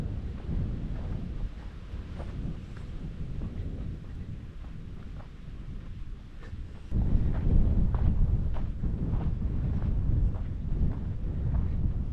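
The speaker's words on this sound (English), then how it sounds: "Pretty windy up here." Steady wind buffets the microphone in a low, rumbling roar on a sandy hilltop at Kanopolis State Park, Kansas, growing noticeably stronger and louder about halfway through, with no one speaking.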